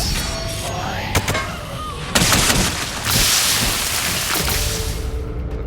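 Meet Your Maker gameplay with a base trap firing bolts, heard as a steady stream of sharp cracking shots over a dense, rain-like rumbling hiss, with a few louder bursts partway through.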